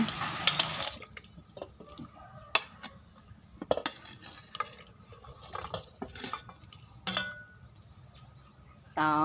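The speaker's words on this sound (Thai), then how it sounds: "จะเอากล้วยลงไปในหม้อเลยนะคะ" Banana pieces dropped into a pot for a Thai banana-in-coconut-milk dessert, with clattering utensil knocks and scrapes, light stirring and faint liquid sounds in a quiet kitchen.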